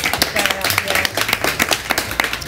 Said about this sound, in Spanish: Un aplauso para Paz, muy bien.